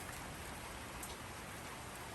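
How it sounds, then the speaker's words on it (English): Light rain falls steadily in Los Angeles, California, a soft, continuous hiss of drops on surfaces with no voices and no break in the patter. "We've got ourselves a light rain in Los Angeles, California."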